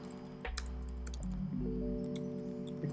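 Soft typing on an unfamiliar computer keyboard while coding an Arduino project, a few quick taps over a steady electronic hum.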